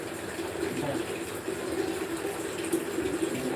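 Water runs from a tap while being collected, a continuous splashing gush at a moderate, even level with slight fluctuations and no clear talking.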